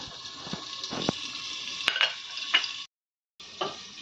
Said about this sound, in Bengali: আলুগুলো দিয়ে দেব আর ঝিঙে দিয়ে দেব। হাফ চামচ নুন দিলাম, দিয়ে আমি ভাজা ভাজা করে নেব।